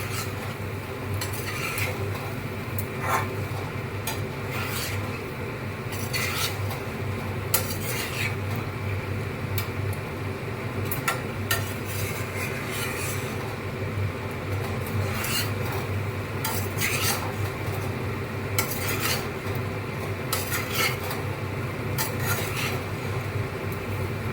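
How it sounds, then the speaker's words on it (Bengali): Potatoes are stir-fried in a pan, a continuous rasping scrape of spatula against metal that carries on evenly for a long stretch over a low sizzle, close up and without speech. "দিয়ে ভালো করে আলুটাকেও কিছুক্ষণ কষিয়ে নেব"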